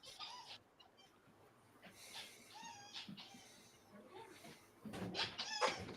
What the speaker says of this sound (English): I hear a squeaky toy.